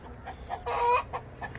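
Hens clucking at a backyard chicken composting area while they take dust baths, a short close burst of soft clucks and a louder, rising squawk in the middle.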